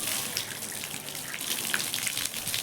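Water streams and splashes steadily from a household pipe used for bathing, a constant close, hissing gush with droplets pattering on a surface.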